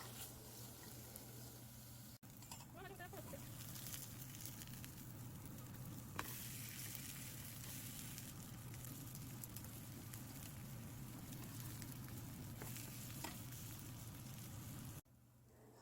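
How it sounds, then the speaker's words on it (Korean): Chili powder frying in green onion oil for squid soup, a soft continuous sizzle with faint stirring scrapes, quiet and steady throughout. "그리고 고춧가루를 넣고 이렇게 볶아서 요리를 시작해 봅니다"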